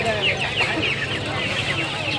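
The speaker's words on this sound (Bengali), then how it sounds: "এই পাঁচটা পুরোটাই ফাইটার মুরগি।" Five fighter chickens cluck and call steadily on a farm, close and fairly loud, with overlapping bird voices throughout and no clear speech.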